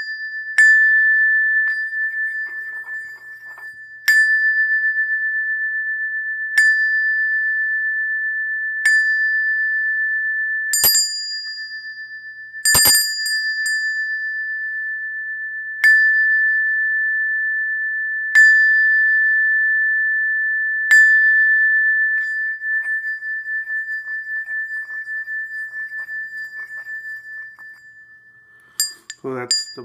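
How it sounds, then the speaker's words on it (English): A Tibetan metal bell rings out repeatedly, about every two to three seconds, each strike leaving a long, clear sustained tone that hangs between hits. "So that's the sound of the bell."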